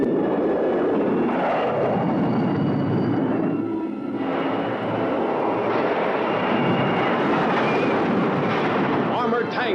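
Loud, sustained roar of a supersonic jet aircraft in a kaiju movie trailer, a continuous rumbling blast with a faint rising whine near the end and no spoken words.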